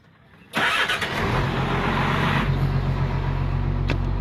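A car engine cranks and catches at night, then settles into a steady, loud idle that runs on alone with no talk.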